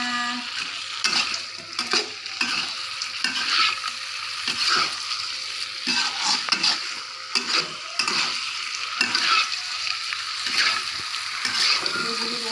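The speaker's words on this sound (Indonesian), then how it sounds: "Kita aduk seperti ini teman-teman." Jengkol sambal mixed with anchovies being stirred in a pan, a spoon scraping and tapping in irregular strokes over a soft, continuous sizzle, close and fairly loud.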